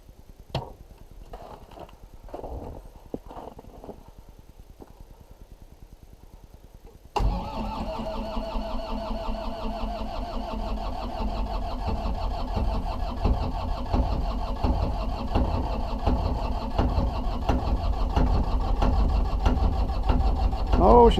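A cold three-phase generator engine cranking with rapid starter clicks and chugs, then catching around seven seconds and settling into a loud, steady idle that gradually builds as it warms.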